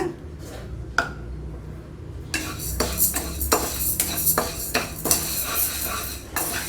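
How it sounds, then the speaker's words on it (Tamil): Moong dal being roasted in a pan for sweet pongal, with repeated sharp clinks of a spoon scraping and knocking the metal pan as it is stirred, steady close-up clatter and no talk. "பாசிப்பருப்பு நல்லா வாசனை வர வரைக்கும் வறுத்துக்கலாம்."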